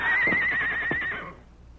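A horse whinnies loudly and close by, a single shrill, wavering neigh that trails off into quiet snorting.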